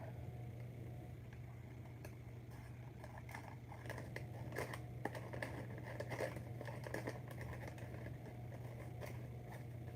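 Scissors snip through a paper doily: faint, close crisp cuts and light paper rustles in an irregular run, over a steady low hum.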